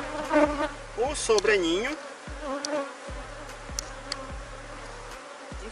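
Honeybees buzz steadily around a hive, a dense close drone running throughout with faint talk briefly over it.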